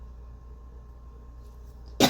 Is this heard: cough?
yes